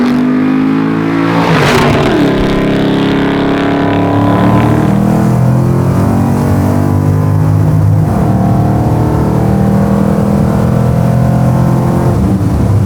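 A full custom sleeper 1964 Chevelle revs hard while shredding its tires, a loud, close, sustained engine roar that climbs and falls in pitch with a harsh burst of tire squeal near the start.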